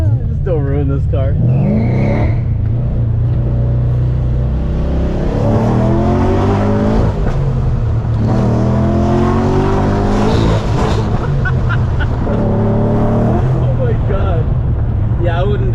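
A heavily modified Infiniti G35 with an LS V8 swap revs hard while being driven, its loud engine roar and exhaust rumble rising and falling continuously, with people talking inside the car over it.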